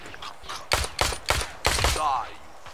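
Gunfire from the video game Ride to Hell comes in a quick cluster of four or five loud, sharp shots spaced a fraction of a second apart.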